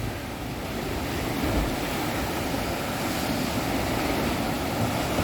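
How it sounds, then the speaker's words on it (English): Big ocean waves crash down beneath a rocky coastline, a constant loud roaring wash of surf mixed with gusty wind buffeting the microphone, with no talking. "The big waves come in there and it sounds amazing."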